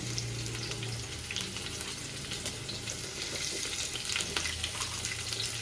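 Onions and spices for egg sambar sizzle steadily in hot oil in a pan, with occasional stirring scrapes and clinks close by, no voices.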